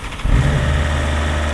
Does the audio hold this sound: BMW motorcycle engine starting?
yes